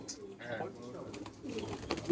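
Madrasi pigeons in a loft give short cooing calls and scattered bird vocalizations close by, under a steady indoor background with some low murmuring.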